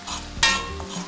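Chicken for Georgian chicken borano sizzles in a frying pan while being stirred, a close, steady hiss with a sharp scraping stir in the middle, no talking.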